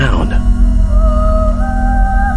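Ethereal Song of Nephilim from the Xenosaga Episode 2 video game, a sustained choral-like tone with steady layered harmonics that slowly shift in pitch, loud and continuous throughout.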